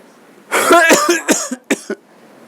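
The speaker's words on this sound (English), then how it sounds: "when I cough, I will ensure that my entire mouth is covered by the crook of my arm" Several muffled coughs come close together, dampened into the crook of an arm, with a short pause before two softer final coughs.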